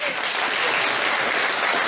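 An audience at a Conservative political event claps in sustained, dense applause, loud and steady throughout with no talk over it.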